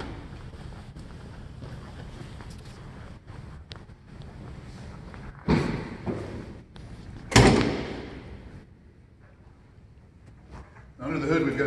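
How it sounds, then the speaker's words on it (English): The hood of a supercharged 2019 Ford F-150 4x4 is popped open: a couple of sharp metallic clunks and a thud amid wind noise and some talk. "Now we'll pop the hood and show you what's under there."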